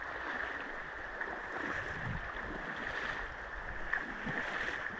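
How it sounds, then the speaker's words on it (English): River rapids on the Margaree River in Cape Breton give a steady, broadband rush of churning water, close and continuous, with occasional splashes rising above the flow. "Trekking through the rapids."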